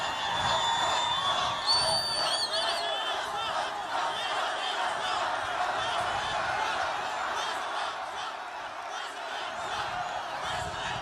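A large crowd at a Donald Trump campaign rally in Sanford, Florida, keeps up a continuous roar of cheering and whooping that echoes through the venue, with scattered shouts rising out of the noise.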